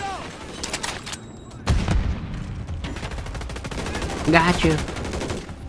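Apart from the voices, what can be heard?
gunfire in the video game Modern Warfare III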